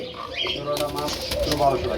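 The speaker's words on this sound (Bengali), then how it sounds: "বাচ্চা কবুতর কিন্তু উড়াউড়ি খুব বেশি করে" Baby Kagzi pigeons flap their wings in quick bursts, the fluttering close and busy against a steady background of voices and bird noise.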